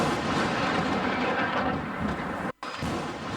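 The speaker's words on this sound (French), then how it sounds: "De la forte pluie, mais aussi de la foudre." Heavy rain with rumbling thunder from a lightning storm, a dense, loud, continuous roar that drops out abruptly for a moment near the end before resuming.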